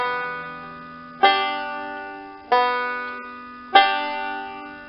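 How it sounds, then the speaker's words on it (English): Three clear plucked banjo notes ring out alone in a pinch roll, each sharp twangy attack spaced about a second apart and left to decay slowly in a quiet room. "So you pluck the second string, then you pinch."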